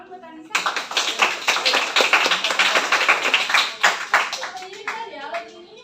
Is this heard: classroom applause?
yes